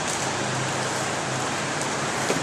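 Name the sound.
sudden heavy rain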